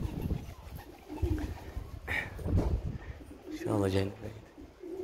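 Pigeons in a loft, one giving a clear, close rolling coo near the end amid softer cooing and rustling, heard under someone talking throughout.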